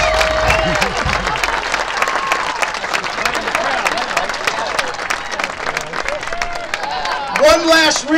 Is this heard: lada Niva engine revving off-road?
no